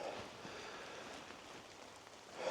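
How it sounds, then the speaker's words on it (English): Light rain falling in summer woods on a cool early-July day, a soft, steady patter of drops on leaves and ground, faint and even throughout with no voices. "A little bit of rain, a little bit cooler than it's been normally."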